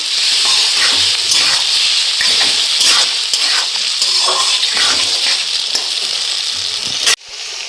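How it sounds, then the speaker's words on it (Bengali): Ginger paste frying in a pan for a Bengali mutton kosha, a loud, steady, close sizzle with faint stirring scrapes throughout, cutting off abruptly near the end. "আদা বাটা, এবার একটু ভেজে নেব এটা।"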